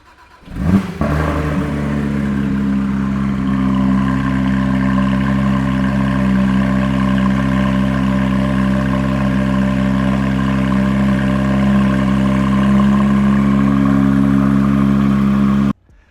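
A Porsche engine with a GMG aftermarket exhaust cranks and catches after a second, then settles into a loud, steady, deep idle that rumbles on until cutting off abruptly.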